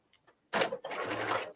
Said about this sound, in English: I'm just going to sew a little bit here on this